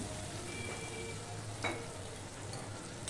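Coriander powder and chili powder frying in a pan as water is added a little at a time, a continuous close sizzle with a brief sharper hiss partway through, and no voices.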